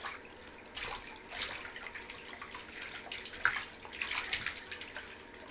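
A baby splashes and paddles in bath water, making soft irregular sloshes and small bright slaps at close range, with no talking.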